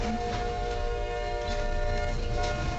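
A train bears down on a level crossing where a bus sits stuck on icy tracks in Michigan, a loud steady rumble with sustained horn-like tones held throughout, no voices.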